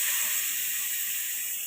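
Loud, steady hiss and sizzle of fish going into frying greens seasoned with dried chili in a pan, a continuous close sputter with no talk.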